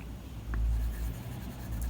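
A Waterman Graduate fountain pen writes on Rhodia paper with green-black ink, giving close, soft scratchy nib strokes in short uneven bursts against a quiet room.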